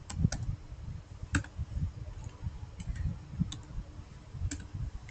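Soft, sparse clicks of a computer keyboard as a command is typed, a handful of separate keystrokes spread irregularly over a few seconds against a quiet background.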